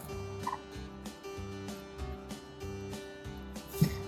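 Broody hen on her nest giving a low, repeated warning growl, a rhythmic pulsing call close by with a sharper squawk near the end, no talk over it.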